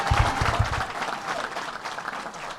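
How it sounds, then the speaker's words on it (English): An audience at a press conference for the New York Islanders' Belmont Park arena breaks into applause, with a few sharp claps up front over a broad crowd clatter that tapers off within seconds. "Give Howard Zemsky a big round of applause."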